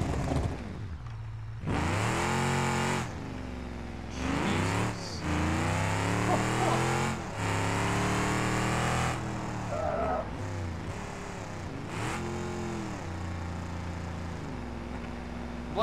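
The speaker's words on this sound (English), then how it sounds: "What an aggressive car." A car engine revs hard and accelerates in repeated surges, each climbing whine rising and falling through gear changes, loud and close, with short lulls between bursts and no voices.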